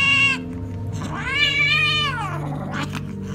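A cat at a vet clinic meows loudly and up close: a short cry, a long drawn-out wail that rises and falls, then another brief meow over a low steady background hum.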